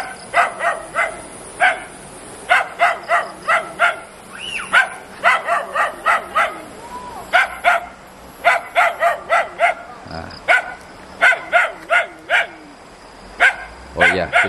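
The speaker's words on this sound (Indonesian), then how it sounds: "saya sudah disambut oleh gonggongan guguk nih" A small dog barks repeatedly in quick bursts of sharp, high yaps, close by, pausing briefly between volleys, at a village house in Indonesia.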